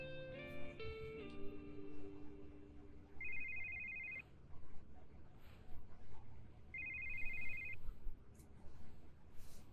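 A cell phone ringing in the video game Yakuza 5, two short electronic ring bursts spaced a few seconds apart over quiet game background sound, following a brief musical chime.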